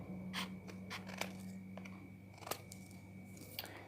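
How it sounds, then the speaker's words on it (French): Scissors snip through paper while cutting out a circle, a series of close, crisp, irregular cuts with short pauses between them, quiet and alone. "Donc je découpe mon rond."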